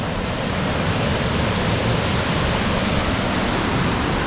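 High Shoals Falls, a waterfall pouring into a deep swimming pool, heard as a loud, steady, unbroken broadband rush that fills the whole stretch without any talk.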